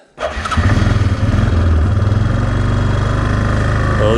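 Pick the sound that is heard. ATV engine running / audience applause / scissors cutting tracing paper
ATV engine running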